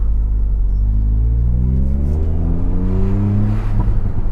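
Ford Fiesta ST fitted with a Scorpion GPF-back exhaust revving, a deep throaty rumble climbing steadily in pitch as the engine spins up, loud and close with no talk.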